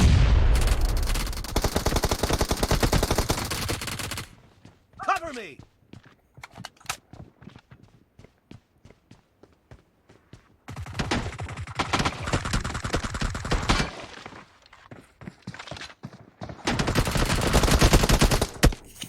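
Gunfire in the PUBG video game, including a player being shot, comes as dense bursts of rapid shots in three loud stretches, separated by quieter gaps with scattered single cracks and footstep-like taps.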